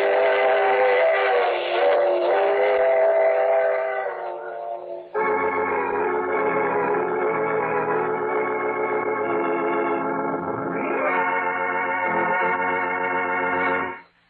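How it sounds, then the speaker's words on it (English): A train sound effect in a radio drama: loud, sustained whistle tones sound over the rumble of the running train, shifting pitch partway through before cutting off abruptly. "I take this same train every week at this time."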